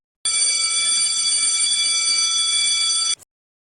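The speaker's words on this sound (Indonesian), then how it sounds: "Sampai akhirnya bel istirahat berbunyi." An electric school bell rings for break time in a steady, loud, continuous tone lasting about three seconds, then cuts off abruptly, with no other sound around it.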